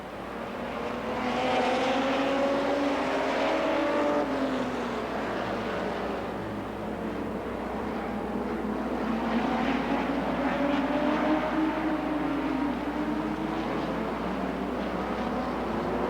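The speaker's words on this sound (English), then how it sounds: "That's Rob Scott in car 32 now in the lead." Stock cars race on the CNE track in 1990; engine roars swell and fade as cars pass in two waves, loud and rising in pitch before dropping away, with a constant low rumble between.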